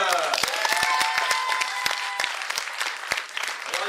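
Loud crowd applause for a poet on stage in Le Havre, dense sharp clapping that stays steady throughout, with a voice faintly under it.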